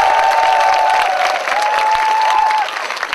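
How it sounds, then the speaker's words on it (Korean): Loud, full applause from an audience at a 2006 troop entertainment performance for an army unit, continuous clapping with a sustained tone running beneath and some cheering mixed in. "우리 모든 분들과 우리 출연진들 모두에게 다시 한번 힘찬 박수를 부탁드립니다"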